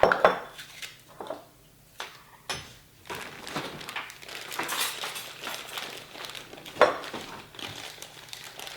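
A spoon scrapes and scoops peanut butter into a mixing bowl, giving repeated close clinks and dull scraping knocks against the bowl in an uneven rhythm, with no talk.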